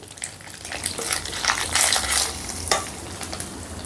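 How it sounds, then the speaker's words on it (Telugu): Ginger garlic paste frying in a pan with a steady crackling sizzle, plus occasional scraping stirs of a spatula, close and continuous with no talking. "ఈ అల్లం వెల్లుల్లి పేస్ట్ని పచ్చివాసన పోయేంత వరకు ఫ్రై చేసుకుందాం"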